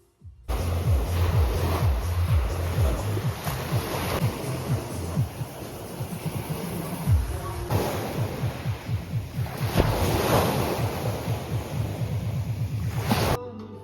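Sea waves washing onto a beach in Kemer, Turkey, a steady, fairly loud surf with repeated swells and rushes, mixed with wind buffeting the microphone and no talking.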